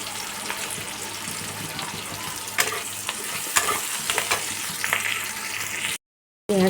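Sliced onions frying lightly in a pan with Kashmiri chili, a steady close sizzle with occasional stirring scrapes, breaking into a brief silence near the end before the sizzle returns.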